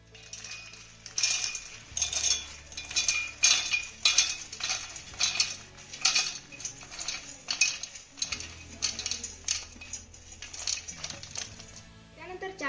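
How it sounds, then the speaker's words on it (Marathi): Roasted cashews and almonds clattering into a steel mixer jar in quick bursts of hard clinks and rattles, fairly close, with a voice talking over the pouring. "आपण आता हे मिक्सरच्या भांड्यामध्ये काढून घेऊया."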